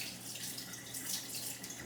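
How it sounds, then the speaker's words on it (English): Running tap water splashes steadily as cooked rice is rinsed off a spoon at a kitchen sink while making poke, a continuous close hiss with no talking. "I'm just going to rinse the rice off my spoon real quick."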